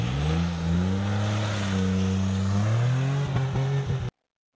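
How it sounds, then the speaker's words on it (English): A four-wheel-drive truck on all-season tires accelerates hard on snow, its engine droning loudly and steadily with rising pitch before cutting off abruptly. "the truck pulls nice and hard in comparison with that two-wheel drive"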